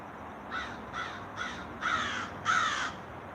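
Five harsh caws from a crow, evenly spaced and growing slightly louder, the last two strongest, with no talking.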